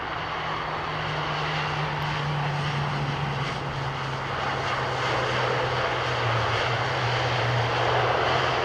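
An ATR turboprop flares and lands in fog at Heathrow, its steady propeller drone with a strong low tonal hum rising a little toward the end, alone and fairly close.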